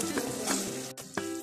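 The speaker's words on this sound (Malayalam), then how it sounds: "ഇത് നന്നായി ഇളക്കാം" Tamarind candy mixture stirred in a pan: a soft sizzle with a few spoon scrapes at uneven intervals, close but fairly quiet, no voices.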